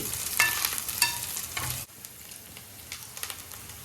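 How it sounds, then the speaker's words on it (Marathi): Curry leaves fry and get stirred in a pan for crab curry, giving a close crackling sizzle with scraping stir strokes that stop abruptly partway, leaving a quieter sizzle. "कढीपत्ता टाकलाय चांगलं लाल परतवून घ्यायचं चांगलं लाल होऊ दे"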